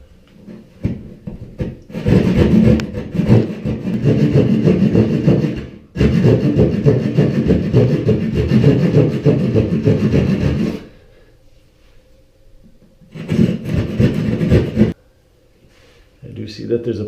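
A handheld drywall saw rasps back and forth through drywall while an access panel opening is cut, long loud bursts of sawing strokes separated by pauses, with brief quieter gaps and a short final burst.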